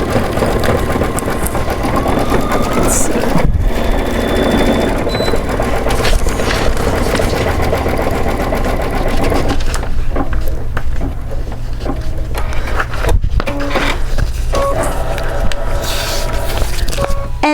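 An embroidery machine stitches over satin stitches with a loud, steady mechanical hum and fast needle chatter, carrying on throughout with a few brief knocks and no talking.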